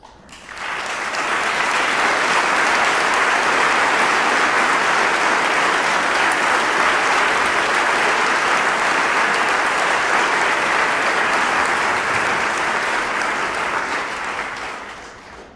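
Audience applause at a writing awards event, sustained and dense, swelling in after a second and holding steady for about fourteen seconds before tapering slightly, heard alone with no talk.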